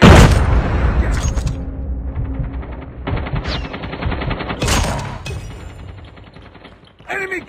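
Frag grenade explosions and dense automatic gunfire in a Call of Duty battle, loud rapid bursts broken by sharp booms, with a final blast near the end.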